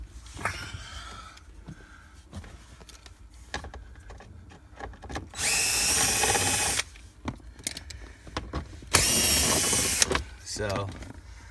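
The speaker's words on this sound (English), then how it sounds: "you can get the drill in there, which I just was" A power drill backs screws out of the dash of a GMC Yukon, heard as two loud sustained whirring bursts of about a second each, separated by handling clicks and brief quiet speech.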